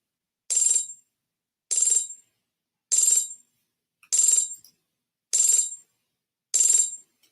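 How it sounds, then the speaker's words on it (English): A telephone-like electronic ringing repeats six times at even intervals of just over a second, each burst bright and fairly loud, with silence between rings and no talk. "I'm not sure whether you guys can actually hear that ringing noise or not."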